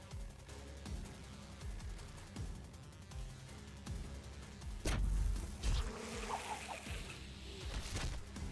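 Bees buzzing in the video game The Last Spell, a droning hum under game music, with sharp impact hits partway through.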